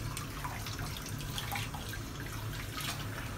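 Water from a tap runs over hands being rinsed at a sink, a soft continuous trickle and splatter, close and quiet, with no voices.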